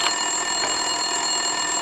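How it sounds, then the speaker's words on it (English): A desk telephone rings in the Max Payne 2 police office, a steady electronic tone holding through the whole stretch at even loudness, with no voices over it. "Winterson's phone was ringing."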